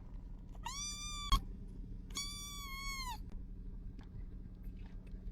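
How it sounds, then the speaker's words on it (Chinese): A very small kitten found near a port, meowing twice in clear, drawn-out cries separated by a short pause, fairly close over low background noise. "看我们发现了一只喵，这太小了吧？"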